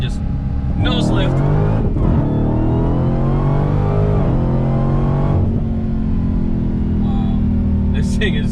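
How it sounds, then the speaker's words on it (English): A 2018 Dodge Challenger with 840 horsepower accelerating hard in second gear, its engine roaring loud and close with a rising pitch sweep, while people talk excitedly inside the car. "You go in like second gear right here and just nose lift"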